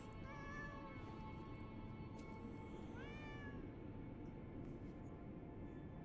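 A cat meows in the video game Lies of P, a few harmonic cries rising and falling over a steady, dense game soundscape, with one clear upward-sweeping meow in the middle.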